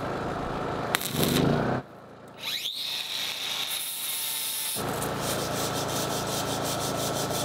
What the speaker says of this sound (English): I grind it with an 80 grit sanding disc until it looks good.